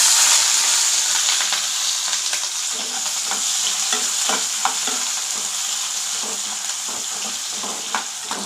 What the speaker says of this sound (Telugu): ఈ ఉల్లిపాయ ముక్కల్ని కూడా బాగా ఫ్రై చేసుకోవాలి